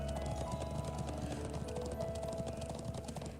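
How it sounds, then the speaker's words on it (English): Rapid, steady clip-clop of horse hooves during a ride in the video game Trails of Cold Steel, with a continuous game music bed beneath the close, regular hoofbeats. "Just riding around a horse for no reason."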